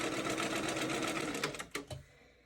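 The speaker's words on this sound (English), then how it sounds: "This metal machine, this 1984 metal machine, will just sew through about anything" A 1984 metal Bernina sewing machine runs at speed with a dense, even needle chatter, close and steady, then slows through a few separate stitches and stops into near silence.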